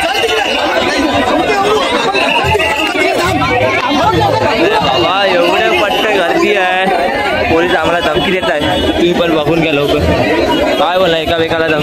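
Dense crowd chatter and babble from a large gathering waiting for a Ganpati procession to emerge, a steady loud hubbub filling the whole stretch with many overlapping voices.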